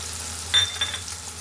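Spices such as cumin and pepper sizzle briefly in a pan for fish curry, a short close frying hiss with light stirring, with no talking.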